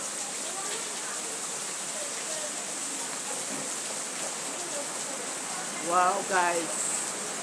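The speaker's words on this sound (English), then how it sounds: "So we are having rain" Steady rain falls outdoors on an evening walk, a constant soft hiss with a breeze moving the trees, as a person briefly exclaims near the end.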